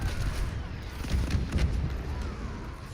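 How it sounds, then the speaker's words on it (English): An artillery strike in an Overwatch match: rumbling blasts and thuds land in a continuous barrage over a few seconds, moderately loud, with a voice commentating over the top. "You see artillery to be used."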